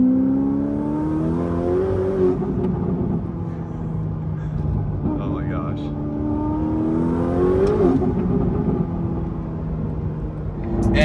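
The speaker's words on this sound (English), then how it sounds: "All right, listen to the turbos." Turbocharged car engine cruising on the road, a steady drone with a whirring turbo that swells and rises in pitch around the middle, continuous and close, with no talk.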